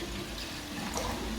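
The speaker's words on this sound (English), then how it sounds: "Here I am adding 1 big glass of water." Water poured from a large glass into a pot while preparing a herbal cough remedy, a steady close splashing pour that runs through the whole moment, with a brief brighter splash near the end.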